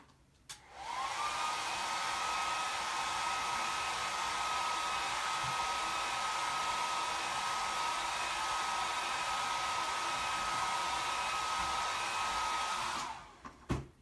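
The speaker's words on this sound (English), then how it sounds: "I'm going to take a hairdryer to this piece very quickly" A hair dryer switches on and blows with a steady, loud whirring hiss and a constant whine for about thirteen seconds, then shuts off.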